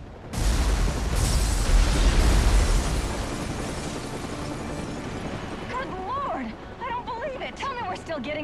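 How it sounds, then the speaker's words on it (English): In the Batman Arkham Origins video game, a massive explosion tears through the Gotham Royal Hotel. A loud, rumbling blast sustains for several seconds and then fades, and a voice begins speaking over the tail. "Reporting live from the Gotham Royal Hotel, where there has just been a massive explosion."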